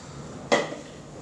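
A single short scrape and clink of a utensil against a mixing bowl while cake batter ingredients are cleared in, close and sharp, then quiet.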